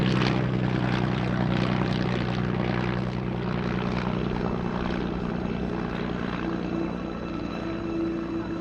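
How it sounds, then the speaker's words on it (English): WWI replica biplanes, a DH-9 escorted by a scale SE-5A replica, flying past at the Duxford airshow with a continuous droning propeller engine sound that stays steady and moderately loud, with no talking. "escorted by the scale SE-5A replica, passes by in front."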